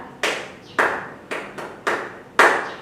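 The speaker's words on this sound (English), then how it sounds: "Give yourself a clap." Six separate hand claps ring out close and clear at an even, unhurried pace, each with a short echo in a small room, and no voices alongside.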